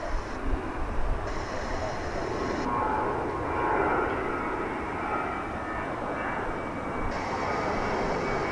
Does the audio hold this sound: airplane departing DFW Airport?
yes